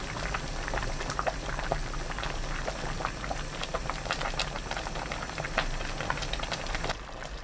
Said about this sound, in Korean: 끓으면 그때부터는 중불로 낮춰서 계속 끓이면 돼요.